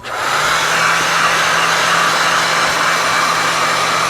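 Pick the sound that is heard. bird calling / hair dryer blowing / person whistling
hair dryer blowing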